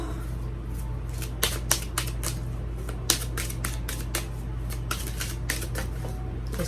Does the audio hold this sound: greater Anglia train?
no